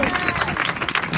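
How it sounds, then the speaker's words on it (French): A holiday-resort crowd at a stage hypnosis show in Playa Blanca claps briefly for a volunteer, a short, close burst of applause mixed with audience murmur. "On peut applaudir Alex plein d'énergie."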